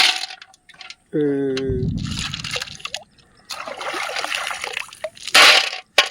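Freshly caught river clams get rinsed in water with splashing, trickling and dripping in bursts, with people talking and a brief tonal sound in between.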